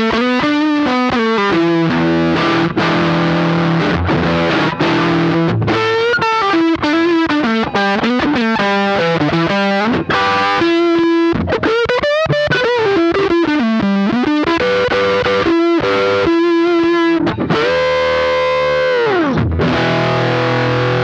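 Electric guitar played through a fuzz pedal gives a loud, heavily distorted tone: sustained chords and bending lead phrases with short gaps between them, close and alone with no talking.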